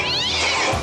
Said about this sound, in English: the worst of all is being a house cat that can't get in the house